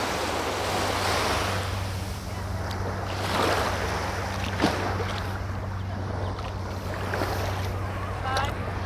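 Surf washing onto a Hong Kong beach, a steady broad wash with soft swells, heard up close over a low constant hum and some wind buffeting the microphone.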